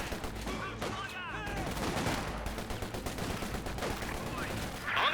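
Gunfire from a Company of Heroes 2 battle: a dense, continuous crackle of rifle and machine-gun shots with a few whistling sounds. The shooting is fairly distant and mixed with other combat noise, and a commentator speaks quietly under it.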